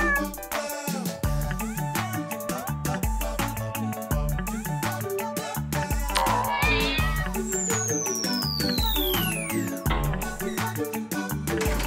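Cartoon cat meows ring out in a nursery rhyme song, several mewing calls layered over bouncy music and sung vocals throughout.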